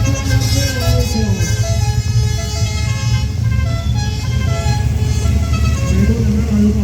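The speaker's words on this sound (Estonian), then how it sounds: "Me tunneme ära juba masina number 84. Omapärase heli poolest." Rally car number 84 passes during the Paide rally closing ceremony, a loud, steady engine roar with tonal whine and shifting pitch that swells and holds across the whole stretch, with crowd noise beneath.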